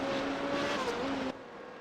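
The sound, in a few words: Formula Renault 3.5 race car downshifting in iRacing video game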